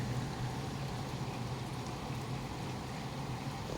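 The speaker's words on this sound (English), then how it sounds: "Rain." Steady rain falling outdoors, a dense, even hiss of drops on surfaces that runs unbroken and fairly loud throughout, with no voices.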